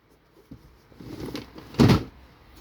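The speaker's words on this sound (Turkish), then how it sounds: "Arkadaşlar çekmeceleri açsam çekmecede yok ama ha." Drawers are opened and closed indoors, a few soft knocks followed by a louder wooden slide and thump near the end, close and alone.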